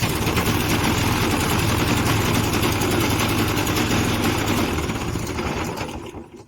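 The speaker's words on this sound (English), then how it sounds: "Engine switched on." A Suffolk Punch 17SK engine runs with a loud, rapid, rattling chatter, steady and close for several seconds before the sound fades away near the end.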